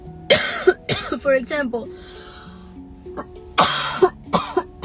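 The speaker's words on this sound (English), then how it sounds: "going back to this cough that I'm having" Two loud, harsh coughs, one near the start and another near the end, with a person speaking between them.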